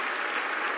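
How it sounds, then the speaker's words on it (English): A crowd at the Sydney Cricket Ground roars and applauds during a one-day cricket match, a dense steady wall of cheering that fills the whole moment without a break. "the crowd going mad at the Sydney Cricket Ground"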